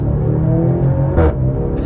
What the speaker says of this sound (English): Now I love the exhaust sound,